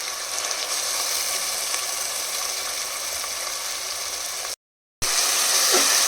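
Onion and tomato paste frying in oil on medium flame, giving a steady, fairly loud broadband sizzle that runs for several seconds, drops out briefly, then resumes.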